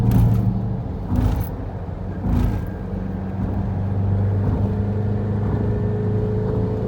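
A Fiat Marea 1.6 16V accelerating, its engine a steady loud drone with low harmonic hum and a couple of brief surges early on, continuous throughout with no talking.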